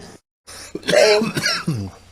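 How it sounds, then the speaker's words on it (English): A person coughs after smoking weed, a short burst of harsh coughs and throat clearing after a brief silence, close to the microphone. "You gotta take in all the coughs."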